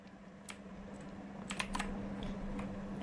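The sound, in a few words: typing on a computer keyboard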